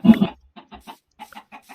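Chicken clucking in a video game: a loud burst of squawky clucks at the start, then a string of short, softer clucks spaced out over the rest of the moment, with no talking.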